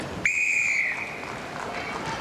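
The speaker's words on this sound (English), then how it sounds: "Hodge caught offside that drew the whistle of Sharon Burge." An umpire's whistle blows at a 1998 netball match between the Adelaide Thunderbirds and Melbourne Phoenix. It gives one sharp, shrill blast of about half a second, then fades against steady crowd noise in the arena.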